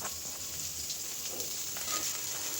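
Potato and green chili frying in oil with onion, a steady dense sizzle with faint crackles throughout, close and even in loudness, no voices.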